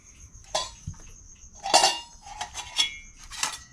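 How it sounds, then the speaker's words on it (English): A camping cook set of small metal pots and a copper-bottomed pan clinks and clatters up close, several sharp ringing knocks spaced irregularly over a few seconds. "And here's the cook set. It's got a little copper bottom pan."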